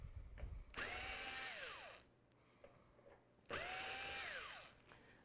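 Electric screwdriver backing two screws out of a computer case, two close, loud whirring runs of just over a second each, rising and then falling in pitch, with a quiet gap and small clicks between.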